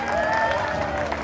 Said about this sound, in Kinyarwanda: mumuhe amashyi, mumwongere amashyi.